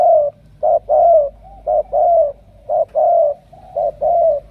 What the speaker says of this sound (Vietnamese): chim nó gù canh ghê không